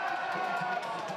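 Soccer fans in a Vancouver pub cheer during a Canada vs Belgium World Cup match, a brief burst of crowd noise and whoops with voices mixed in.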